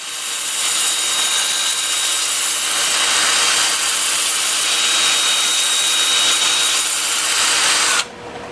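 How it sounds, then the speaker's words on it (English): Sandpaper pressed against a large maple burl bowl spinning on a woodturning lathe, a loud continuous hissing rasp that holds steady for about eight seconds, then drops away abruptly, leaving a quieter machine hum. "I'm starting the sanding at 100 grit, working up through 400."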